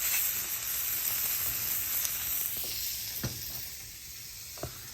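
Steak fat renders on a hot, smoking Blackstone flat top griddle, giving a steady, loud sizzle with a few sharp crackles and pops near the end, and no talking over it.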